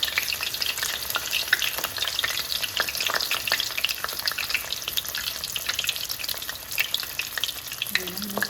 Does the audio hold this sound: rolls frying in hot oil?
yes